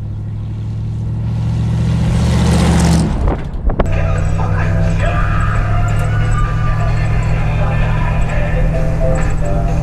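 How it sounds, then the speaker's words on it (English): A 1971 Dodge D100 Adventurer pickup truck drives along with a continuous, close, droning engine note. A brief clunk and a dip in the sound come midway, then the steady drone returns. "Hey, here we are driving the D100."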